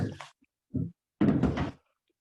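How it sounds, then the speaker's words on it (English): The wooden drawers of an old chest are pulled open indoors, giving a short scrape, a brief wooden knock, then a longer sliding rub, close and clear with no talk over it. "and then you can open up the drawers."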